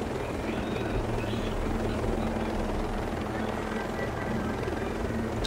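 A helicopter in the video game Ghost Recon Breakpoint gives a steady, close rotor drone with a low pulsing throb that holds at an even loudness for the whole stretch.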